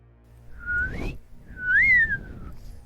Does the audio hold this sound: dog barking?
no